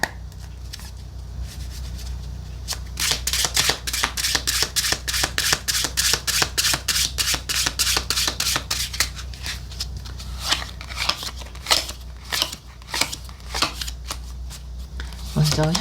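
Tarot cards are shuffled for a Celtic cross reading, with rapid, steady riffling and flicking of the deck running for many seconds, close and crisp, over a low background hum.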